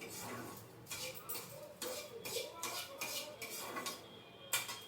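A spatula stirs gond laddu mixture of atta, dry fruits and ghee in a metal kadhai, scraping and clinking in a steady rhythm of repeated strokes up close.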